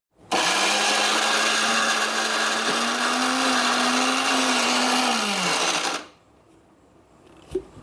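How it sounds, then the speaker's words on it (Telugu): An electric mixer grinder blends salted red chillies into a smooth paste for tomato pickle, producing a loud, steady whirring drone for about six seconds before cutting off abruptly, followed by quiet. "ఇప్పుడు దీన్ని మెత్తగా మిక్సీ పట్టుకుందాం"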